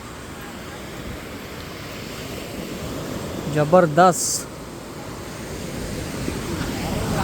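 Ocean waves at Chivla beach in Malvan, Konkan, a steady, loud roar of surf with wind noise throughout, and a voice briefly exclaiming midway.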